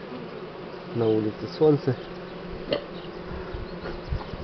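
Buckfast honey bees buzzing at an opened hive outdoors in spring, a steady close insect drone running throughout under someone talking and some handling noises.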